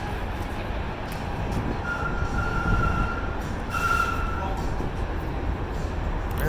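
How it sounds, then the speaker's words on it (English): Inside a TEXRail passenger train running between DFW and Fort Worth, a constant low rumble of wheels on track fills the cabin, with faint wheel squeals and muffled voices talking under the ride noise. "This is a very nice train."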